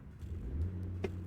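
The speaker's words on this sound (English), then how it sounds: "Engine sounds a little better than I thought it would." A truck engine in American Truck Simulator, fitted with a rev limiter, idles and revs with a low steady rumble, moderately loud and close, with a brief click near the end and no talking.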